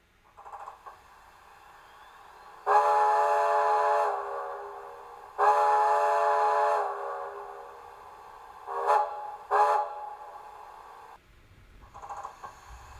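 A DCC sound decoder in a Bachmann 2-4-2T G-scale model locomotive plays a steam whistle. Two long tonal blasts are followed by two short toots, with faint electronic hiss and a low rumble at the end.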